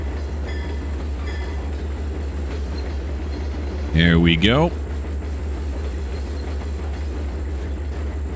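A train rolls past in the Trainz 2022 railroad simulator, a steady low rumble with a sharp, rising-and-falling horn-like burst in the middle, while someone speaks briefly over it.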